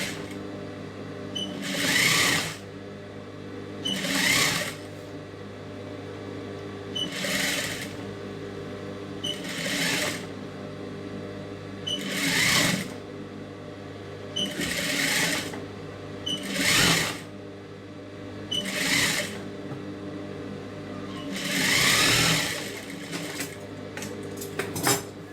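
An electric sewing machine stitches a silk skirt (pattu pavadai) in repeated bursts of fast whirring, about ten runs separated by brief pauses, close and steady with light clinks between.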